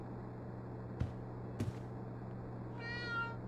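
A cat in the video game Life is Strange: True Colors gives a single short meow near the end, after two soft thumps over a quiet, steady background hum.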